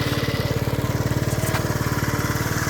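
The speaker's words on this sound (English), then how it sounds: "with the bike running at idle" Lance Cabo scooter engine idling close by, a steady loud pulsing putter with an even rapid beat throughout.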